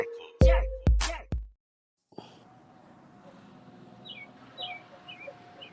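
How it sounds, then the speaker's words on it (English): Pet birds chirp in the background of a home: faint, intermittent high tweets over a low steady hum, after a few loud thumps at the start. "I can hear TJ Bergs chirping away behind her."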